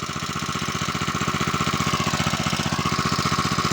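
Matsumoto MGP petrol irrigation water pump engine, 3.5 hp, running steadily at half throttle, with a loud, even, fast putter that stays constant throughout and no talking.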